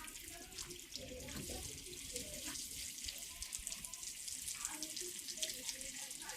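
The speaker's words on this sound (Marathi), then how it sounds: "कोकमीला पाणी घालत जा." Water pouring steadily from a vessel onto a potted kokum plant in a home garden, a soft continuous splash and trickle, faint, with low voices talking in the background.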